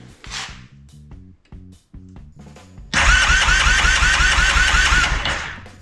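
A Kodiak engine cranks with a rapid chugging starter rhythm for about three seconds, then catches and runs loud and steady close by, settling toward the end.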